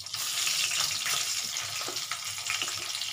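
Torn bay leaves and dried red chillies fry in hot oil in a home kitchen, a loud, steady sizzle running unbroken throughout with faint crackles, heard close up without talk.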